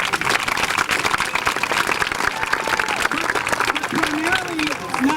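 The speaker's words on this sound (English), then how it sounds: "I'd like to please a round of applause to thank everybody." Audience applause at a 1996 elementary school promotion ceremony, a full room of continuous clapping with crowd murmur, and voices talking over it toward the end.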